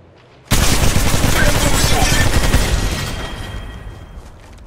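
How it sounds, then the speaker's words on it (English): Gunfire in the mobile game Apex Legends Mobile: a sudden loud sustained burst of rapid automatic shots, close and dense, that fades off over a few seconds. "They're shooting at me."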